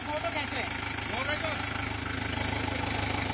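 Tractor engine idling with a low, steady rhythmic chug as it arrives at the state legislative assembly, heard under a reporter's speech and crowd noise.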